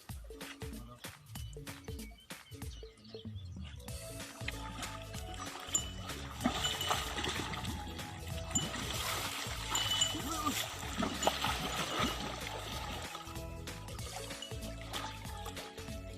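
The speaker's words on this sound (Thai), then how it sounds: "เล่นจนน้ำกระเพือบเลยค่ะ" A child splashes and plays in bathwater until it overflows the tub, with busy, continuous splashing and trickling throughout, mixed with background voices and household sounds.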